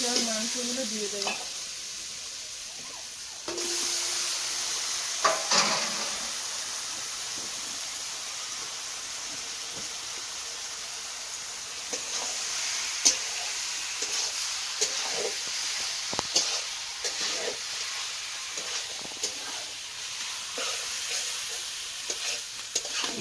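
Duck meat fries and is stirred in spice paste over a wood fire, with a continuous sizzle and hiss broken by scraping stirs and clinks, fairly faint and without speech.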